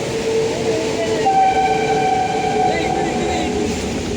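A train rumbles steadily nearby with a broad, noisy roar, and faint tonal horn-like notes rise partway through, near a waterfall in Ratnagiri.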